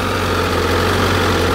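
A 2013 Honda CBR1000RR Fireblade Repsol sportbike engine runs steadily at low revs during break-in, a continuous close, loud idle-like hum with a low rumbling drone and no voices.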